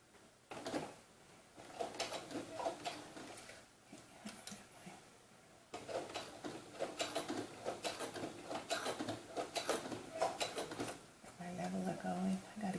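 Home sewing machine top stitching around a doll romper, rapid rhythmic needle bursts in several runs with short pauses, fairly faint and close.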